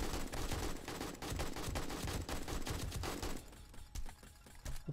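Rapid automatic gunfire shooting zombies in the modded video game 7 Days to Die, sustained dense bursts for several seconds that thin out into scattered shots near the end.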